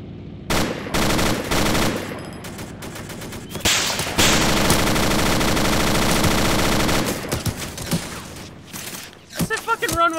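Rapid bursts of video game gunfire, machine-gun rattles and single shots, loud and near, come and go over about ten seconds with players' voices talking over parts of it.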